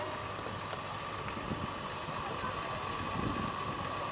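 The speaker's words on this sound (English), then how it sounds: "We have Richard Krause has brought a 560 International Diesel tractor." An International 560 diesel tractor idling at a summer picnic fair, a low, steady engine drone with faint rhythmic knocking, fairly quiet and continuous amid light outdoor background sound.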